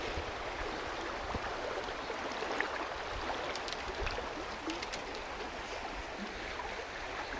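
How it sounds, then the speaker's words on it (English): Feet wade through a cold woodland stream on a spring day, a steady broad rush of flowing water with faint splashes, continuous and fairly close with no voices. "I don't mind wading through the water."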